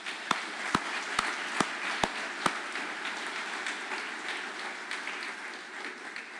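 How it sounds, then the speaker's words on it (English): An audience at a public safety awards ceremony breaks into steady applause, a broad sustained clatter of many hands, with several sharper, evenly spaced claps standing out at the start. "How about a big round of applause?"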